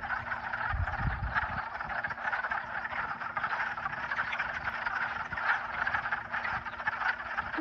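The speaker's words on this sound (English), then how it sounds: "Look at all those frogs." Many frogs croak at once in a pond, forming a dense unbroken chorus that stays close and loud throughout, with no voices.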